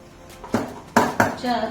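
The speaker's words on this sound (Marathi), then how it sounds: "आता आपण हे भांड जरा हलवून घेऊया" A metal pot of dhokla batter being shaken and tapped, with several close clanking knocks and a rattling scrape, loud and brief.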